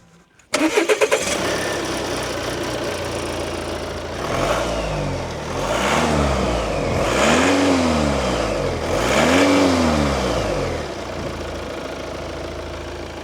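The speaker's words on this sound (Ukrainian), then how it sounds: "Ще одне, хочу вам показати, як працює цей двигун." A Volvo V90 D4 four-cylinder diesel engine cranks and catches, then settles into a steady mid-pitched idle with a couple of gentle revs rising and falling, close by.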